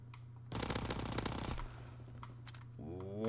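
A Thompson submachine gun in a WW2 video game fires a sustained, rapid burst for about a second, followed by a few scattered shots further off, with game sounds and a tonal effect at the end.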